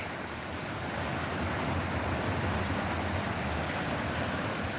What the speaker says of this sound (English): You can hear the water, guys.